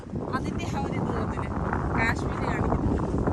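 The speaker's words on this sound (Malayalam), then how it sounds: "നല്ല കാറ്റുണ്ട്" Strong wind buffets the microphone at an open campsite in Canada, a steady broad roar filling the whole clip with brief voices faintly audible beneath it.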